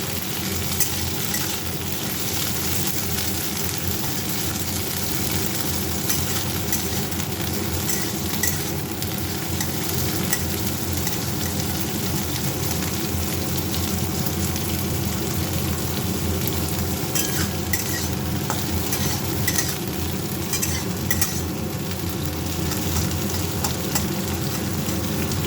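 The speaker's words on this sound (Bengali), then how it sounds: "এগুলো একটু ভেজে নেবো।" Yardlong beans frying in a pan, a steady continuous sizzle with occasional stirring scrapes, close and fairly loud with no talking.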